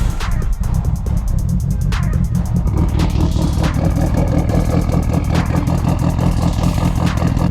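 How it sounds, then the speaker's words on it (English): A Mitsubishi Evo VIII engine rumbles and idles loud and steady close by on a cold morning, with a constant low throb and a rattling mechanical texture throughout. "So I've had the Evo idling for a while."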